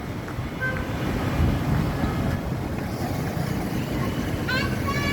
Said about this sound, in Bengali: অলরেডি বাতাস ছেড়ে দিছে।